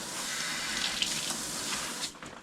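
Tap water running steadily while a dog is rinsed at a grooming session, a close hissing spray that holds for about two seconds and then drops away.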